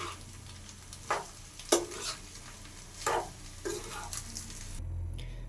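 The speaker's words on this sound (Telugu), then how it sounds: "సాల్ట్ వేసుకున్న తర్వాత మంచిగా మిక్స్ చేసుకుందాం" Rice stirred with salt in a pan while making mango rice, several brisk scraping strokes at irregular intervals over a soft sizzle, close and moderate, ending in a low rumble.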